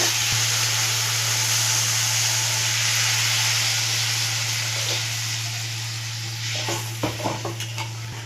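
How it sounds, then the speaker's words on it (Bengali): Fried spice masala sizzles loudly and steadily in a pan as water goes in, with a constant hiss, a low hum underneath, and a few utensil clinks near the end while fish curry is cooked. "মশলা কষানো হয়ে গেছে, এবার আমি জল দেবো।"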